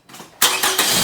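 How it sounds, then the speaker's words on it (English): A 2017 Toyota RAV4 engine starting after a battery replacement: a brief starter crank, then the engine catches and settles, loud and close. "Now I'm going to start the car up and check the voltage again."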